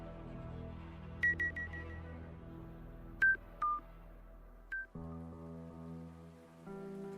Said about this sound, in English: Traffic signal beeps its urgent warning.